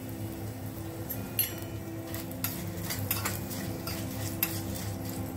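Mustard seeds, urad dal, chilli, hing and dried curry leaves temper in hot oil in a pan, giving a soft steady sizzle with a few sharp metallic clinks of a spoon against the pan.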